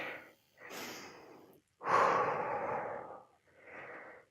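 Heavy breathing after a leg-burning set in a menopause workout: a few deep, rough breaths close to the microphone, each separated by a short gap, with the loudest breath in the middle and no talk.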